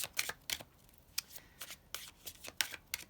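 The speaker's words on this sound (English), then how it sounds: "Get a couple more cards." Tarot cards are handled and drawn from a deck, producing quick, faint papery flicks and snaps in irregular bursts, heard close and quiet with no talking.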